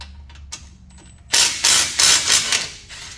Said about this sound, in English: you're gonna take off these two bolts at the bottom.